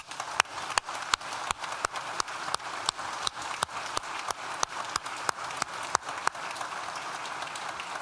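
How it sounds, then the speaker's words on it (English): Applause from a large audience at a university graduation ceremony, a dense steady wash of clapping with several sharp, close individual claps standing out in a regular beat throughout. "Please join me in thanking them with a well-deserved round of applause."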